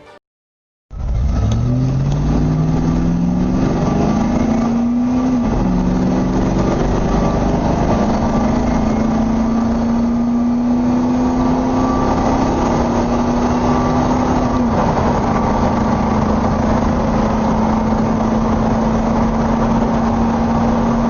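A Land Rover Range Rover Classic diesel engine runs loud and close, starting up, rising through a couple of revs, then settling into a steady hum that holds, with no voices.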